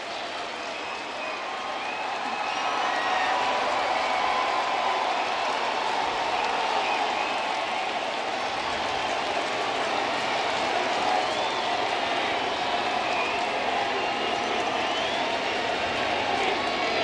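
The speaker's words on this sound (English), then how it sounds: "The crowd reacting to Warren" A baseball stadium crowd at a Detroit Tigers home game against the Los Angeles Angels in 2021 reacts with steady applause and cheering, a broad, continuous roar of many people that swells after the first couple of seconds and holds.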